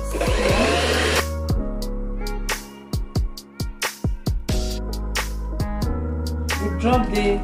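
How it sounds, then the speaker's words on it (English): An electric mixer whisks eggs for cake batter, its motor whining loudly and steadily. In the middle it stutters through a series of short bursts and stops, then runs continuously again. "now we are going to whisk the egg"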